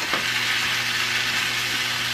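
Vegetarian lasagna sauce sizzles loudly in a pan under an even, close frying hiss, with a couple of brief stirring scrapes and a faint steady hum beneath.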